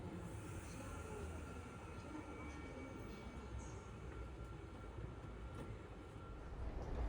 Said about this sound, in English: hopped aboard our international Eurocity train to Antwerp, Belgium